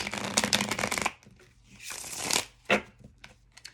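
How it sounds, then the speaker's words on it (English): A deck of tarot cards is shuffled by hand in a close, crisp riffle of rapid flutters. It is followed by a few softer sliding passes and a single card snap. "Being guided to shuffle."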